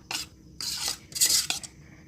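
Fish roe mixture being stirred and scooped into a bag, heard as a few short bursts of wet scraping and clinking of a spoon against a bowl, close and distinct, with no voices.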